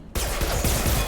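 Heavy pistol fire in Mass Effect 2 erupts after a brief quiet moment as a loud, dense flurry of rapid shots continuing to the end.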